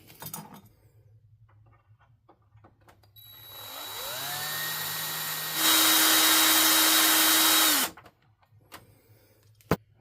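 A power drill fitted with a tiny 1/16-inch bit drills into metal, running steadily for about five seconds, winding up in pitch and then settling into a louder, constant whine before stopping abruptly. Faint handling noise comes before and after.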